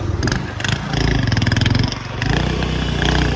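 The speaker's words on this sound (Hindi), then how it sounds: "रवि भाई बाइक चलाएगा, चलो।" Motorcycle engine running steadily in Pakistan, a loud close chugging drone with a slight rise and fall in revs and no talk over it.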